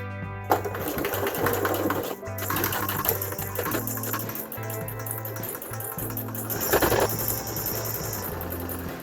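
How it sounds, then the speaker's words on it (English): A sewing machine stitching a fabric face mask runs with a loud, steady mechanical whir and rapid needle chatter, pausing briefly and then resuming, with no talking. "Now I'm just gonna start sewing."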